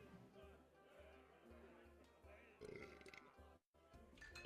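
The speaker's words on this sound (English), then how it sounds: "I heard somebody burp." A single burp cuts through a busy room with background music and chatter.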